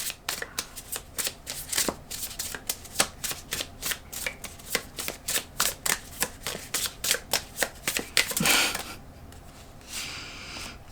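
Tarot cards being shuffled by hand, a close run of crisp, rhythmic riffling bursts repeating steadily, then a longer sliding rustle near the end before it fades to quiet.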